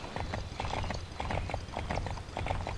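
Horse hooves clip-clop in a rhythmic trotting pattern in the Wii video game Barbie Horse Adventures, clear and close with steady repeated beats.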